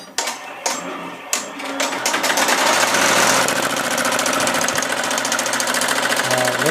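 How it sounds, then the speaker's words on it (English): An embroidery machine stitching a logo on the side of a hat on a wide-angle cap frame. It gives a few separate clicks, then a steady, fast, rhythmic mechanical buzzing close by. "Alright, let's watch the stitch out."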